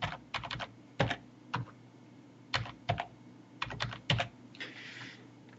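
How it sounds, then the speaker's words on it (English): Someone types a password on a computer keyboard, with scattered clusters of crisp key clicks in an irregular rhythm, close and quiet in an otherwise silent room. "I'll type Bobby."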